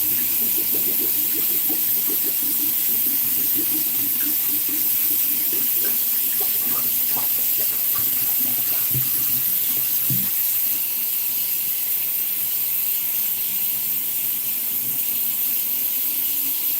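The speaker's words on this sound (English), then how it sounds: "when I'm filling it with water and I no longer see bubbles coming up" Tap water runs steadily into a bottle at a sink, a continuous close hiss and splash with scattered gurgles, with no voices over it.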